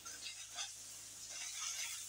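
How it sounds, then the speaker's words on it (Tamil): Garlic masala sizzles softly in hot oil as it is stirred for an egg curry, a faint, steady hiss with gentle scraping of the spoon and no talking. "எண்ணெயில் வெந்த உடனே கொஞ்சம் அப்படி கிளறிட்டே இருங்க"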